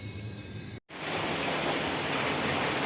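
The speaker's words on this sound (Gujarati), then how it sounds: "સુરતમાં તો વરસાદ જો બહુ જ વરસાદ છે. અતિ પવન ને વરસાદ બંધ થવાનું નામ જ નથી લેતું." Heavy rain and wind in Surat, a dense steady wash of rainfall that cuts out briefly and then returns loud and continuous, no voices.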